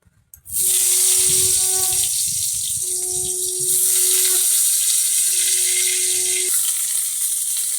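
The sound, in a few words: cut ridge gourd added to hot pan, sizzling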